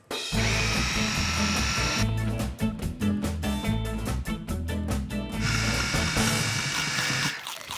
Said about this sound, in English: You just throw all of your vegetables into it and let the food processor do all the hard work.